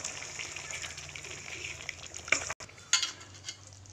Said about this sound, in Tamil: இப்போ எல்லாத்தையும் மிக்ஸ் பண்ணிக்கலாம்.